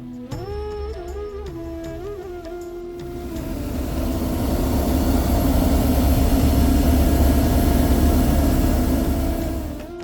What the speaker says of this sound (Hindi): धीरे धीरे हमारा हेलीकॉप्टर MI-17 एल्टीट्यूड में ऊपर जाने लगा